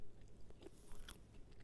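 A soft, close crunching bite into a Costco Grace Gourmet bacon, gouda and egg breakfast sandwich, followed by faint chewing, quiet and brief.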